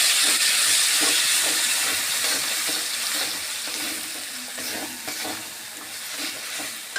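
Chili paste and ground cumin-coriander paste sizzle in hot oil, giving a loud, steady frying hiss that eases slightly over time, broken by soft stirring scrapes and no voices.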